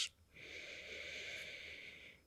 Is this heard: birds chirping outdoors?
no